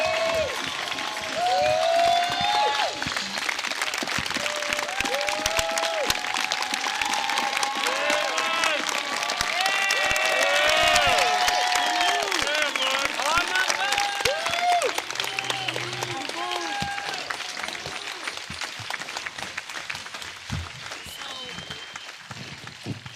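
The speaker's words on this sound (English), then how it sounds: "I really want us to clap just again to show some love" Audience applause in a lecture hall, sustained clapping from a large crowd with scattered cheers and voices mixed in, steady and loud throughout before easing slightly near the end.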